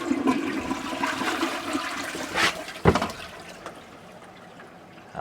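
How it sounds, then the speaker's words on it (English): Water rushes and gurgles steadily as a toilet tank refills in an off-grid cabin, with a brief clunk partway through and the flow easing toward the end. "I can hear the toilet is already filling up."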